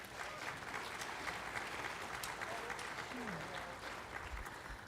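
Steady applause from a large crowd at a conference dinner, dense clapping that holds at an even level throughout without pause.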